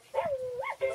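A toy matching game plays a short electronic dog barking sound, two or three quick yips with a whimpering, rising-and-falling tone, loud and close, with no talk over it.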